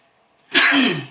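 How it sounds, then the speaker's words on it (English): One sharp, explosive sneeze bursts out close up after a brief silence, trailing off into a breathy tail. "I got to sneeze."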